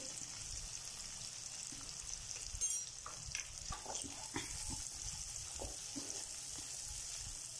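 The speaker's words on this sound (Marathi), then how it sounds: "पण आधी बटाटा वाटाणा टाकून घेऊ, तेलात परतून घेऊ" Diced potatoes and peas sauté in hot oil with turmeric, a soft steady sizzle with occasional stirring scrapes and clinks of a utensil against the pan, fairly close and moderate in level, with no voices.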